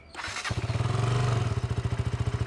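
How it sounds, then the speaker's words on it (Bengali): A 2025 KTM Duke 200 motorcycle engine catches and settles into a loud, close, throbbing exhaust idle with a steady pulsing rhythm. "একবার এক্সস্ট সাউন্ড শুনে নেওয়া যাক।"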